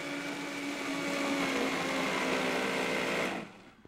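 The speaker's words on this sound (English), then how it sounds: "So we'll blend it and then we'll add it to our." A blender runs at a steady high whir for about three seconds while blending a raw vegan filling with a little added water, then winds down and stops near the end, with no talking over it.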